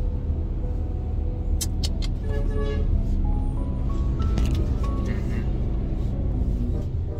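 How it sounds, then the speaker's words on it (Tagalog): Busy road traffic with cars and heavier vehicles passing, a continuous loud engine rumble with occasional tonal whines and a brake hiss, heard from close by with faint voices underneath. "Ah, traffic po talaga ngayon."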